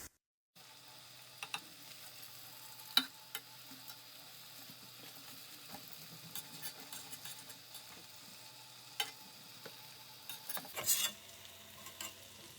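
Tandoori chicken tikka frying in separated oil in a pan, a steady low sizzle with occasional stirring and spatula scrapes, close and fairly quiet, with a brief clatter near the end and no talking.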